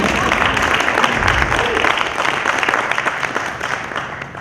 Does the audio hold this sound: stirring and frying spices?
no